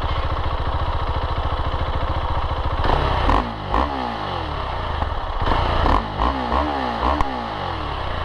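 A motorcycle engine, either a 2021 Moto Guzzi V7 Stone or a 2019 Husqvarna Svartpilen 701, idles steadily and then blips through several short revs, close by with a rough, pulsing exhaust and no talking.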